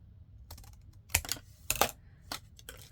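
Scissors cutting paper for a junk journal envelope, a handful of sharp crisp snips spaced irregularly, close and fairly quiet in a still room.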